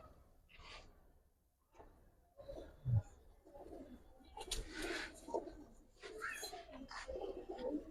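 Giribaz and coloured pigeons at a pigeon seller's, soft low cooing calls repeating irregularly nearby, mixed with rustling and faint background noise.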